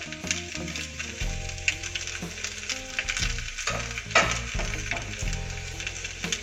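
Indomie noodles with squid and celery are stir-fried in a pan, with continuous close sizzling broken by repeated scraping and tossing strokes as the mix is stirred.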